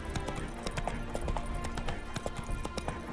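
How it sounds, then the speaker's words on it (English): Horse hooves clip-clopping in The Witcher 3 video game, a brisk, steady run of hoof strikes close by, with faint ambient game sound underneath. "Spooking my horse."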